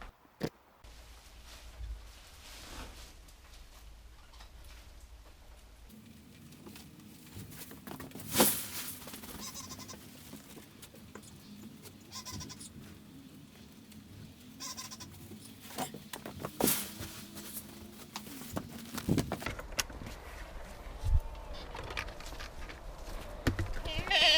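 Goats bleating at a farm amid shuffling and handling noises, with intermittent calls and bursts of movement over a quiet background; a person's voice is also present at times.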